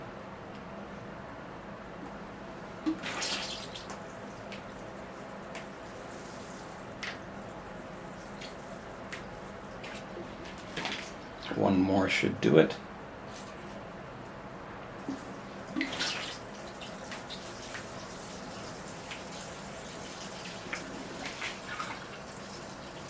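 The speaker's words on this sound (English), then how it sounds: "So I'm just letting it soak in, giving it a good thorough deep water." Water poured onto a bonsai in its pot during a thorough deep watering, with quiet trickling and dripping as it soaks in and drains, a brief louder splash midway, and a few words spoken softly.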